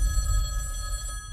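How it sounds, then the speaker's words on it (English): A telephone rings steadily with a sustained electronic tone, moderately loud over a low rumbling background, with no voices. "Just gonna keep on ringing."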